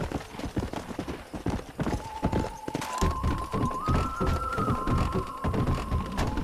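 Horse hooves clip-clop in a brisk, steady rhythm close by in the video game Red Dead Redemption, with a sustained musical tone rising in the background.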